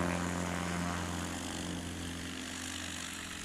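A small propeller airplane in a STOL qualifying takeoff at Brainerd, Minnesota, its engine a steady loud drone with a low hum that eases slightly as it pulls away, alone without talk.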